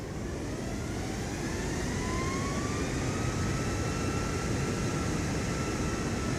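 An airplane engine spooling up for takeoff in a flight simulator game: a steady roar with faint whining tones slowly rising in pitch, continuous and even throughout.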